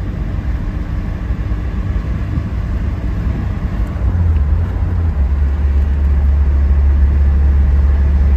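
A 1991 Alfa Romeo Spider Veloce cruises with the windows down, its engine a steady loud drone over constant road and wind rush. Partway through, the pitch drops and settles as a smooth gear change goes through, then a deeper hum carries on.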